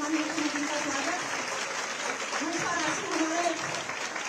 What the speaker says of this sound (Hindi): जोरदार तालियों से माननीय मुख्यमंत्री का स्वागत